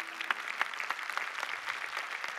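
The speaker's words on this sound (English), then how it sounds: "Let's clap for God, okay?" A church congregation claps for God, a steady crowd of hands pattering evenly at a moderate distance, with a few sharper claps standing out and no talk over it.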